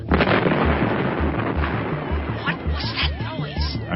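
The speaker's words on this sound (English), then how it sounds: "That explosion just blew off the starboard side of the ship." A radio-drama explosion tears off the starboard side of a ship, heard as a dense, loud roar of rumbling blasts with rhythmic low thuds and scattered pops and whistling streaks, sustained for several seconds.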